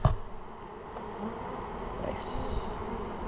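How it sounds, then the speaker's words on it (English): Bees buzz steadily around a hive being removed from a roof three stories up, a close, continuous insect drone with a brief higher whine partway through and a single short spoken word. "see those bees right there? The one standing still."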